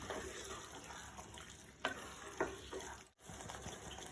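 A chicken marinade with lemon juice and yogurt is stirred together, giving soft, quiet mixing and scraping with a few sharper clinks, close and alone.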